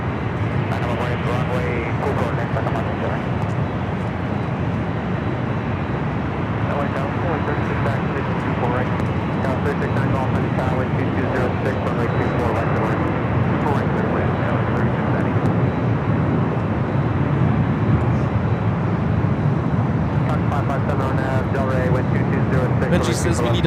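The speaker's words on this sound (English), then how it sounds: "This flight going to be taken off to Guatemala City." Jet airliner roaring steadily on takeoff at LAX, bound for Guatemala City, a loud continuous engine rumble throughout with people talking over it.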